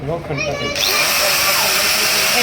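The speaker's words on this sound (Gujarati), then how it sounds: "કાણું પડી ગયું જુઓ આ લોખંડમાં કાણા આને કઈ મશીન કહેવાય ડ્રીલ મશીન" A power drill boring a hole through iron in a blacksmith's workshop, its steady high whine running loud and continuous, briefly under a voice at the start.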